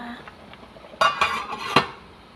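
A metal lid comes off a cooking pot of fish paksiw with ampalaya, making a few close clanks and clinks over a faint quiet background.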